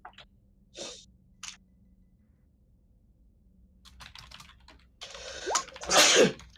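A single sharp sneeze near the end, preceded by a few short breathy sounds and quiet background.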